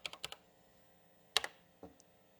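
Keys clatter on the keyboard of an old 80286-based Bosch Rexroth PG4 industrial PLC computer. A quick burst of four presses comes first, then a pause, then a few more close, crisp strokes in a quiet room.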